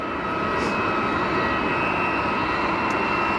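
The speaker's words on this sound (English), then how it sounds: "Turkish Neo is rolling." A Turkish Airlines A320neo rolling for takeoff at Geneva Airport: a loud, steady jet engine roar, sustained and close throughout.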